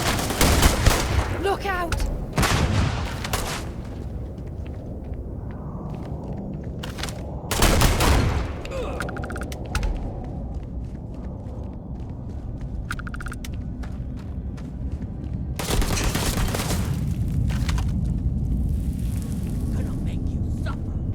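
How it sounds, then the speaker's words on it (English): Gunfire and a grenade blast in the Starfield video game: rapid bursts of shots with loud broadband bangs at intervals, mixed with a steady background din while voices shout over the combat. "Throwing a grenade!"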